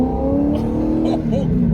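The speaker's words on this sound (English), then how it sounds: "The supercharger under the hood of this thing sounds really good." A supercharged C5 Corvette accelerates, its engine revving in a steady loud drone with rising pitch, heard from inside the car while a voice talks over it.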